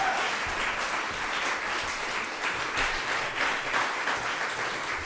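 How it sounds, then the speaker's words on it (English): A folk festival audience claps for the stage crew and sound people, a dense sustained round of applause at an even, full level throughout, with no talk over it. "Would you please give them applause?"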